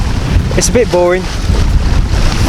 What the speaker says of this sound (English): We've got just the mainsail up because we can just about hold it. It's basically into wind. We're still with the engine on.